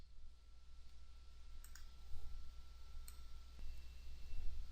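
A computer mouse gives two sharp, quiet clicks a second or so apart against a faint background hum.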